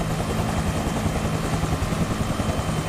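Mi-24 attack helicopter flying in a PvP combat video game, a loud, close, continuous rotor thrum with a rapid rhythmic beat and a low engine drone, alone without talk.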